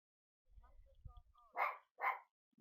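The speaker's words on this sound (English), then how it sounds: "My dog's barking at my cat." Two sharp barks from a dog ring out close by, following a stretch of faint rumbling and soft whimpery sounds.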